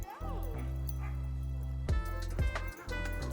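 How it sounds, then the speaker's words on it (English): Puppies playing and barking: several close yips and short barks over a steady low hum, with a quick whimpering squeal and two sharp barks near the end. "it's time for the puppies to work off their breakfast"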